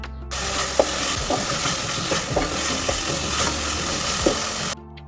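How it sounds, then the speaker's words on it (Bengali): Prawns frying with tomato and garlic paste in hot oil, a steady close sizzle with repeated scrapes and taps of a spatula stirring the pan, the sound cutting off near the end. "সবগুলোকে তেলের মধ্যে একটু ভাজা ভাজা করে নিচ্ছি।"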